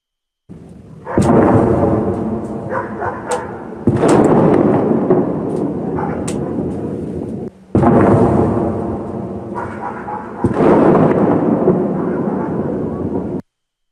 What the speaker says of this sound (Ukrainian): про звук ідеться того вибуху, який пролунав у Шебекіному